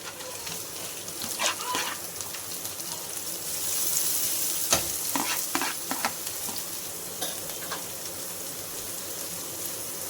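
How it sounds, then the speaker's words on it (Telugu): Chopped vegetables and paneer frying and being stirred in a pan, a steady close sizzle with scraping stir strokes and brief louder bursts, no talking. "వీటితో పాటు పన్నీర్ కూడా చక్కగా ఫ్రై అయిపోతుంది."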